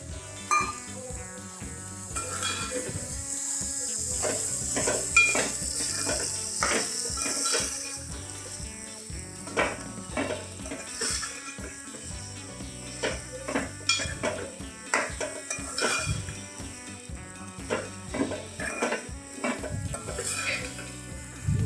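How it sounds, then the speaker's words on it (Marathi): Cooked mutton tipped into roasted masala in a pan for Kolhapuri mutton, with busy clatter of a spoon on metal and sizzling frying throughout, close and fairly loud, no talk. "याच्यामध्ये आपण शिजवून घेतलेलं मटण टाकूया"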